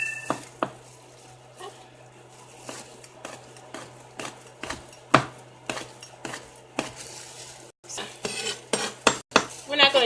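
Knife cutting the lid off a rinsed spicy pepper on a kitchen board while making homemade pizza, heard as a run of sharp close clicks and taps, some clustered and louder near the end, over a steady low hum.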